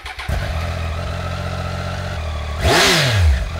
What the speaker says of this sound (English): sweet, sweet tones of my new exhaust